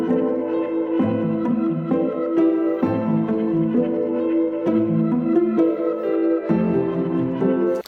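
Soft background bells layered into a dark orchestral hip-hop beat melody, blending with sustained chord tones that shift every second or so, played continuously without any talk.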